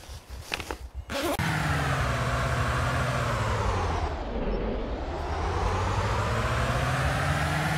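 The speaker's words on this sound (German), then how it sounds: "Oh, bin ich lang nicht mehr Auto gefahren." Car engine drone in the video game DayZ, a steady loud hum whose pitch dips and rises again as the vehicle changes speed, after a few brief knocks at the start.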